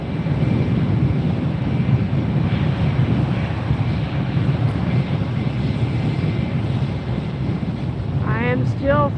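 A NetJets business jet roars through its takeoff run at Fort Lauderdale, a broad, steady rumble mixed with heavy wind buffeting the microphone, continuous throughout with no clear speech.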